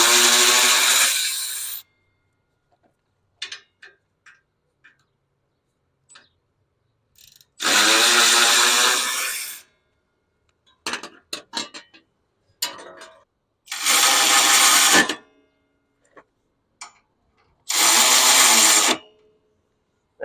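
Power tool working on a riding mower's metal heat shield hood in a workshop, sounding in four loud sustained bursts of about two seconds each, separated by quiet gaps with scattered clinks and small metallic handling noises.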